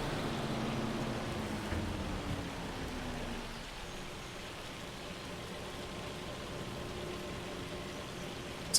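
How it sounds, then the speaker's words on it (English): Heavy hail storm in Farming Simulator 25, a dense, steady pattering roar that fills the whole stretch at even loudness with no voices. "The hail is coming down."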